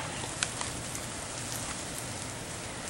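Rain falls steadily during a Tennessee ice storm, a dense, even outdoor hiss with a few sharper drips and ticks scattered through it.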